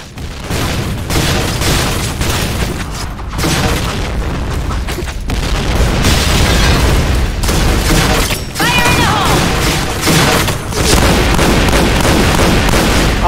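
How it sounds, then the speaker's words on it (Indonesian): An old shotgun fires repeatedly in a zombie shooter video game, heavy booming blasts in quick succession with explosions and gunfire layered densely, loud and continuous throughout. "shotgun jadul"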